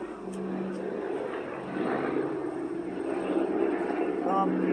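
A steady low rumble of helicopters passes over a workshop, droning continuously beneath a man's speech.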